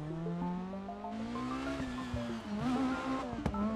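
Rally car engine in DiRT Rally, likely a Lancia 037 or Peugeot 306, heard from outside with a steady rising and falling engine tone and brief tire squeal near the end.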